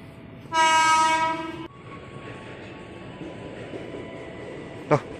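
A KRL Commuter Line electric train at a station sounds a loud, sustained horn blast of about a second, followed by a low, steady rumble of the train and a brief click near the end.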